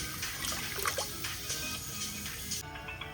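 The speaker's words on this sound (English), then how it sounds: "Okay, we're gonna put the water in here." Water poured into a pot for cooking pasta in a home kitchen, heard as a steady splashing, running pour close by that fills the whole stretch, with no talk over it.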